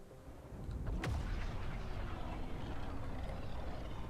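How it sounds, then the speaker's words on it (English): In a video game, a freighter is hit by a gunfire barrage: a dense, sustained rumble of shots and blasts, with one sharp crack standing out early on. The fire stays loud and unbroken to the end. "We'll have to barrage it with gunfire to force it to a stop."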